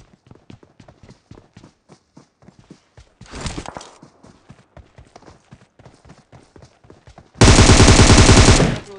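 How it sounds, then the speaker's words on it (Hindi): M4 and Bizon gunfire in a mobile shooter: rhythmic footsteps, then a short sharp burst, then a long, loud, sustained volley close by. "अब यहाँ पे मैं जैसे ही एम फोर से बोट फायर करता हूँ इतने मेरे को सामने की तरफ से भैया बाइजन के साउंड आते हैं"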